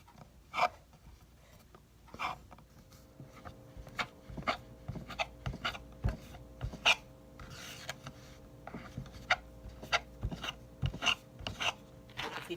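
Chin chin dough is cut into small pieces with a knife on a board, giving a string of sharp, close, quiet taps and scrapes in an irregular rhythm.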